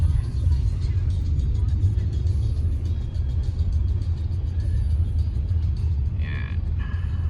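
A car travels down a road between Hope and Agassiz with a steady, low interior rumble that runs throughout. Faint brief sounds rise near the end.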